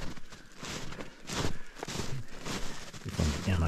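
Footsteps crunching through fairly deep snow on a walk down a slope, a steady series of soft scuffing steps close by, with some low rustle and bumps toward the end.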